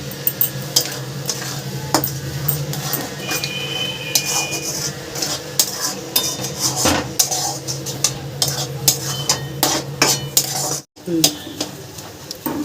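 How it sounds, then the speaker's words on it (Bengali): Fried semolina is tipped into a pan for a homemade puja sweet and stirred, with repeated scraping and metallic clinks of a spoon against the pan over a soft sizzle, while a voice talks at times. "এর মধ্যে আমি দিয়ে দেবো এবার ভেজে রাখা সুজিটা।"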